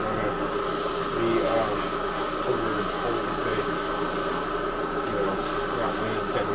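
A heavy coat of spray paint going onto a Buick car part, heard as a steady, close aerosol hiss that runs almost without a break, with a few short pauses.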